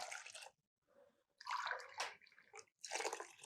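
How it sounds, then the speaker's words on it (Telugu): Water is poured into dal for kichidi in several separate splashy bursts, each about half a second to a second long, separated by near silence, close and fairly quiet. "మీకు దానికి 4 టైమ్స్ వాటర్ పోసుకోండి"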